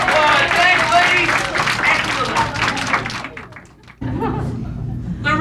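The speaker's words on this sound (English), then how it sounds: "And a big round of applause." Audience applause and clapping for a juggling act at a children's show, a dense crowd of claps with voices mixed in, dipping briefly before resuming near the end.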